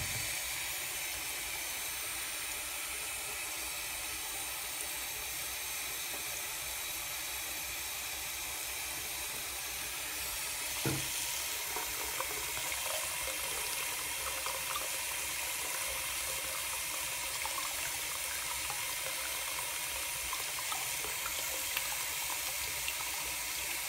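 Tap water runs steadily into a sink while a pet ferret drinks from it, a continuous close hiss and splash with one brief knock partway through.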